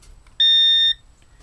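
A timer gives one loud electronic beep after a minute of heat gun reflow on a motherboard, a clear steady tone held about half a second, then quiet.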